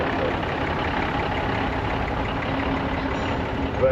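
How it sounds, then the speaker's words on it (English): A 1984 Atkinson lorry pulls out of the show ring at the Shrewsbury steam rally, its diesel engine a steady, dense rumble at moderate distance. "First one we seen leave the ring was this 1984 Atkinson."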